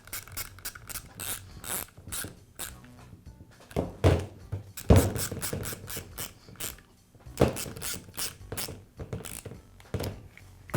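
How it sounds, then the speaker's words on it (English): Screws are driven into the shoe housing of a Milwaukee reciprocating saw, heard as close, rapid ratcheting clicks and mechanical rattles in repeated bursts with short pauses, with no speech. "I'll slide the shoe back into the housing and tighten up the screws."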